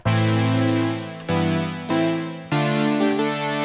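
A Behringer JT-4000 Micro synthesizer plays its first preset, a buzzy sawtooth sound, as four sustained chords in sequence, each fading slightly before the next strikes, rich and bright with no voices.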